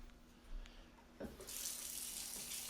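After a few quiet knocks, a tap turns on and water runs steadily into a sink, a continuous splashing rush close by.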